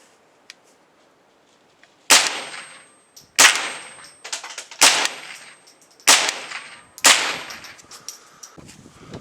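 A .22 LR AR15 firing CCI Velocitor ammunition: five sharp, loud shots spaced about a second apart outdoors, each followed by a short ringing decay and small metallic clinks.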